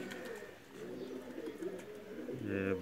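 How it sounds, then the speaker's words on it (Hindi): Soft, low cooing from Pakistani Chaprday pigeons repeats in the background, fairly faint and steady, with a slightly louder coo near the end. "चपड़े कबूतर जी"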